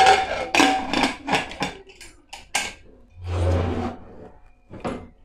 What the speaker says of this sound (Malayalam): നമ്മൾ വീണ്ടും കുക്കർ അടച്ചു കൊടുക്കുകയാണ്.